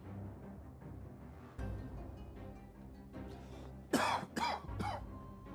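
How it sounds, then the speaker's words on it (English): Three sharp coughs in quick succession after a few seconds of quiet background noise. "I've got to go back to the doctor about this stupid cough."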